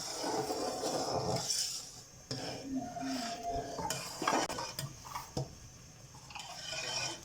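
A spoon scrapes and knocks against a pot while suji halwa with nuts and raisins is stirred, giving irregular clinks and soft scraping over a faint sizzle, close up and with no talking.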